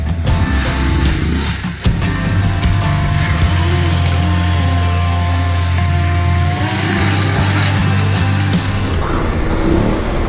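A BMW F850 GS Adventure motorcycle ridden off-road, its parallel-twin engine holding a loud, steady drone with a brief throttle dip and a light knock from the trail early on.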